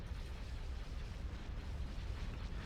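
Cannon fire from ships in the space strategy game Star Wars Empire at War: Thrawn's Revenge pounds a Star Destroyer as a continuous rolling barrage of deep explosive booms and rumble, dense and steady with no talking.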